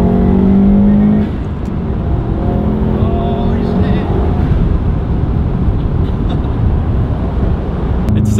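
Subaru Bugeye WRX with a swapped 6-speed gearbox heard from inside while driving, a loud, steady engine and road roar with a brief rev at the start.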